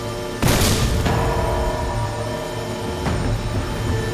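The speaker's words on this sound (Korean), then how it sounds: "가열로가 폭발할 것 같습니다." Industrial heating furnace explosion in a disaster film: a sudden loud boom bursts out, followed by a dense roaring, crackling rumble and a second, smaller blast, heard alone at close range.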